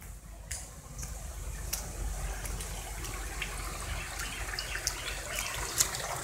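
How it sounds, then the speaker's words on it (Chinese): Water draining out through a hole into a front-yard drain outlet, a steady rushing, gurgling flow running continuously at moderate level, with faint splashes and no talking. "现在呢，我把水呢放掉，透过这个孔呢，然后呢，它是从前院的那个排水口出来"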